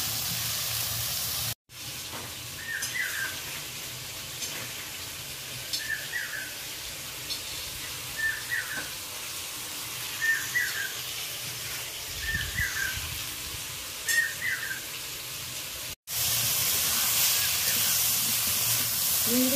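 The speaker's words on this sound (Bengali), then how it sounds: "আলু দিয়ে এক সাইডে আমি চিংড়িটা হালকা করে একটু নাড়াচাড়া করে ভেজে নিচ্ছি" Prawns and potatoes frying in a little oil give a soft, steady sizzling hiss, fairly quiet and continuous, with faint repeated chirps in the background.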